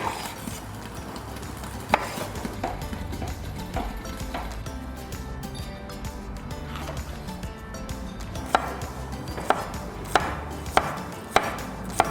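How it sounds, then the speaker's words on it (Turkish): Rapid, steady knife chopping of peppers on a cutting board, with a few sharper knocks of the blade toward the end. "Hemen biberlerimizi doğruyoruz"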